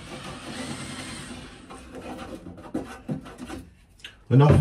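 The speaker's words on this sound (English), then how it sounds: "8mm drill bit. Kind of wobbling it around a bit." An 8mm drill bit wobbled around inside a hole to widen it during a narrowboat bathroom wall fit-out, giving close scraping and grinding rubs that come and go, ending in a sudden louder rasp.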